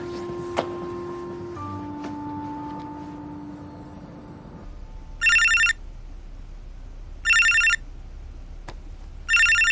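A telephone rings in short repeated bursts, three rings spaced a couple of seconds apart, loud and clear over a quiet room after a faint low hum fades.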